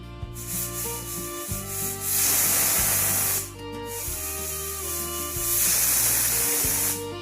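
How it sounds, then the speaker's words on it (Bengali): A pressure cooker boiling sweet potatoes hisses and whistles loudly and steadily, swelling into two strong bursts of steam, close by with no voices. "প্রেসারে 3টে সিটি পড়ে গিয়েছে।"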